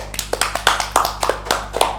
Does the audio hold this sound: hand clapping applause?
yes